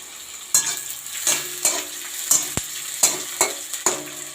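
Cardamom, cloves and bay leaves fry in hot oil as a spoon stirs them, giving six or seven sharp scraping strokes over a crackling sizzle, near and loud.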